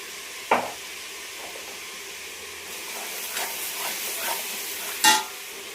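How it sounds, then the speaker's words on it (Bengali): Meat masala fries in oil while a spoon stirs and scrapes the pan, giving a low sizzle with a few sharp clatters near the start and end. "ভালো করে আবার কষিয়ে নেবো তেল ছাড়া পর্যন্ত।"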